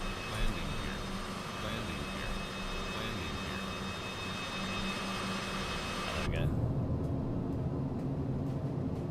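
A jet airliner landing in Microsoft Flight Simulator 2020, with a continuous loud engine roar and whine that shifts abruptly to a lower rumble partway through, heard close up.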